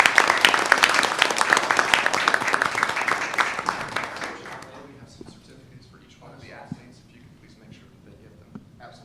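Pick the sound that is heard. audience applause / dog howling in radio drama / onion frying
audience applause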